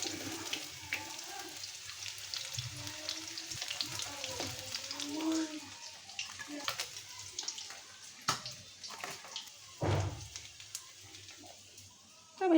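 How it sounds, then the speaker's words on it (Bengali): Boal fish heads frying in hot oil, a steady close sizzle with crackling pops and occasional louder spits, no voices over it. "দেখেন কীভাবে ফুটে।"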